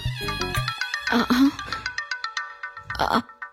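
A melodic electronic ringtone plays in repeating short tonal bursts, with a voice speaking briefly over it; fairly close and clear.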